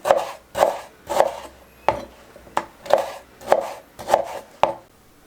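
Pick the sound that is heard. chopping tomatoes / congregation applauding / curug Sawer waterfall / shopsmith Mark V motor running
chopping tomatoes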